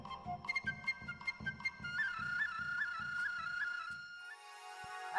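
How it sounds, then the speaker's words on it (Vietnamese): A flute plays a slow melody of sustained notes in a forest, clear and fairly near, over a soft rhythmic pulse of low thumps that fades before the final held notes. "Kỳ lạ, sao giữa rừng lại có tiếng sáo thổi?"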